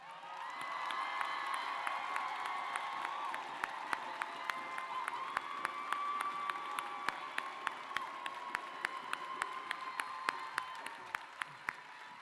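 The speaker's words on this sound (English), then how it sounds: "please stand for a round of applause." A crowd at a Kente graduation ceremony applauds and cheers, with sustained clapping, scattered whoops and sharp individual claps standing out, heard at a moderate distance.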